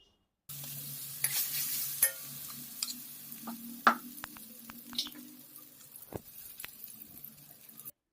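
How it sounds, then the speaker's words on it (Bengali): Green peas sautéing in a little oil with cumin, a soft sizzle with intermittent spatula scrapes and clinks against the pan, close but fairly quiet, no speech. "মটরশুঁটিটা কষে নেবো বলে একটু তেল দিয়ে একটু জিরে দিয়ে দিয়েছি"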